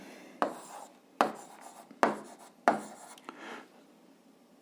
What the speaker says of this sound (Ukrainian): Записуємо отже